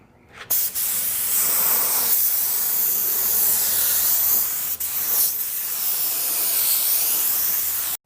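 Spray gun laying base coat paint in a continuous, loud hissing burst from about half a second to the end, with brief pauses near 5 seconds, close and steady with no talk.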